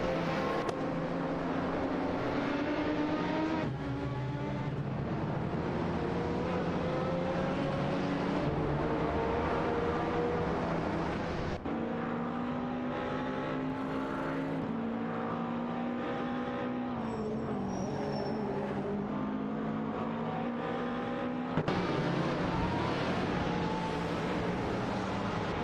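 An Audi and a Peugeot 908 HDi FAP racing in a video game, engines whining loudly and continuously, rising and falling through gear changes for the full stretch, no talk.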